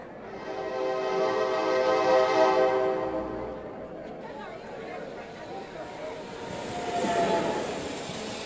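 A German S-Bahn commuter train rumbles in, metal wheels squealing with a sustained tonal whine, then fades as another rising screech and rumble follow.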